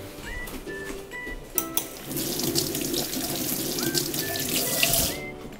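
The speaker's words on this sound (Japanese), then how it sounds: "ナスを洗いまして、" Tap water runs steadily into a sink while an eggplant is washed for a microwave eggplant gratin, a continuous close splashing with a few brief squeaky tones, no talking.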